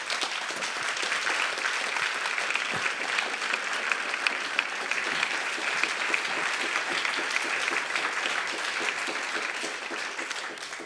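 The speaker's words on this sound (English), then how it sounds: "So please, a big applause." Sustained, even applause from a symposium audience in Vienna as a speaker is invited to the stage, a dense wash of clapping throughout without letting up.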